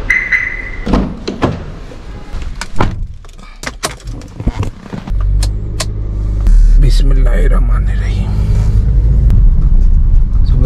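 A car is entered and started, with door thunks and clicks followed by a steady engine rumble building as it pulls away, loud and close, with some talking in between.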